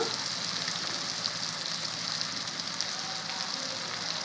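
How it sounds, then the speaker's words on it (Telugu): Ridge gourd pieces go into a frying pan with softened tomatoes for an egg curry, making a steady, rain-like crackling sizzle close up with no talking. "నేను బీరకాయ ముక్కలు వేస్తున్నాను"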